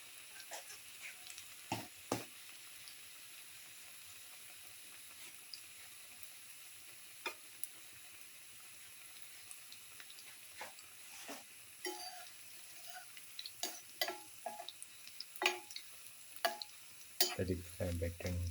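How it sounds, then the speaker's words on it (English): Tamarind chickpea fritters fry in hot oil with a soft, quiet sizzle, broken by occasional light clicks and taps from turning, which grow a little busier toward the end. "Let it fry by turning from side to side until all the fritters are nicely made."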